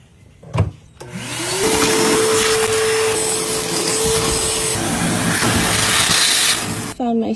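A shop vac starts up after a short knock and runs with a loud, steady, hissing whine close by, then cuts off near the end.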